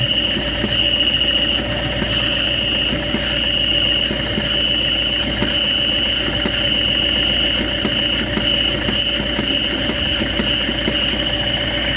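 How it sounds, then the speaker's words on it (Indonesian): A car clutch gives a steady high-pitched grinding squeal that pulses in short repeated bursts as the pedal is worked, over a continuous engine hum, close and loud throughout. "ketika pedal kopling dimainkan, kontinuitas ataupun dari suaranya itu berubah-ubah ya"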